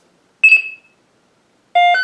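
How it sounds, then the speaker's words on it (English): A Hasbro Force FX Yoda lightsaber with a SaberCore 2.5 conversion board sounds two loud, close electronic menu beeps. The first is a short decaying tone and the second comes after a pause and is longer and sustained. "past that first beep, which is the beep for sound font changing"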